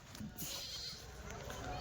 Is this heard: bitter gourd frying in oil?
no